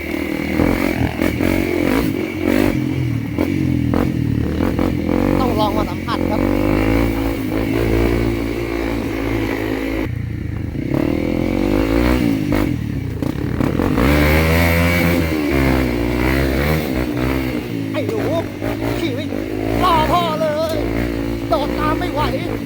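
A motorcycle riding a rural rainy-season trail with water crossings near Khao Ta Miao, Rayong, Thailand, its engine droning and rising and falling continuously and close, with someone talking over it.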